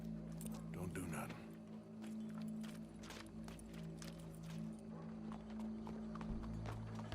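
Horse hooves clip-clop at a steady walking pace in the video game Red Dead Redemption 2, heard over a sustained tonal drone with voices talking throughout.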